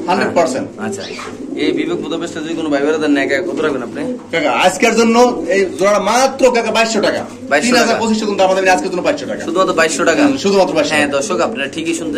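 Hungarian Budapest pigeons, a pair offered for sale, coo intermittently under continuous haggling between two men, the bird calls faint and buried beneath the voices.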